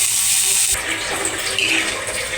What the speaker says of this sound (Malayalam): നമുക്ക് കുക്കറിൽ വേവിച്ച് വെച്ചേക്കുന്ന പരിപ്പ് ഇതിനകത്തോട്ട് ഒഴിക്കാം